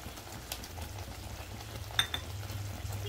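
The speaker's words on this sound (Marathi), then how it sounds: "हाय फ्लेमवर हा मसाला छान परतून घ्यायचा आहे" Masala sautéing in oil over a high flame in a pan, a steady close sizzle and hiss throughout, broken by a faint scrape or clink of a stirring spoon near the middle.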